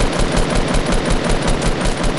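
Rapid automatic gunfire in a shooter video game, a loud continuous burst of evenly spaced shots filling the whole stretch with no talk over it.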